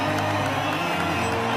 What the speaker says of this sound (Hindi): ये लो तालियां।